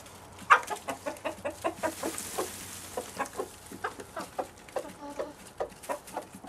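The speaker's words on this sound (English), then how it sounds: "these chickens of mine have actually learned what the word cucumber means" Allotment chickens cluck close by in a steady run of short, rhythmic calls with no talking over them.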